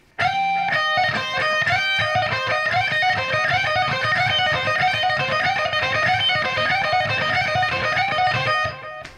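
A loud, distorted electric guitar plays a busy, repeating lead lick with sliding notes, continuous and dense, with no one talking.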